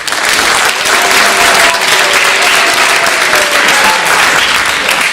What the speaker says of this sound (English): Can we hear a big round of applause for them?